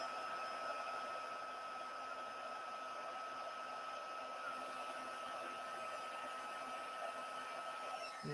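Heat tool melting gold embossing powder on a Christmas card sentiment, a steady, fairly loud blowing whir with a constant high whine that runs unbroken throughout, alone without talk.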